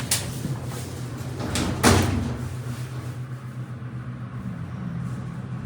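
Westinghouse hydraulic elevator door operator at a department store in a mall, opening and closing with a couple of soft thuds and a sliding rumble over steady low machine hum; no talking.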